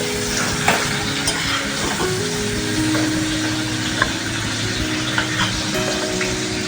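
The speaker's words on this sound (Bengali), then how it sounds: "কিছু দেবো না, এমনি ভেজে নিচ্ছি।" Shrimp frying plain in a pan for a Bengali-style dish, a loud continuous sizzle and crackle of hot oil with occasional sharp pops and stirring clicks, close up and uninterrupted.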